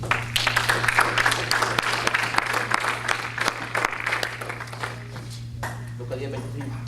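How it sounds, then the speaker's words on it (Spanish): A church congregation applauds the Lord in a lively, sustained burst of clapping that dies away toward the end, while a preacher's voice carries over it. "Denle un aplauso al Señor, hermano."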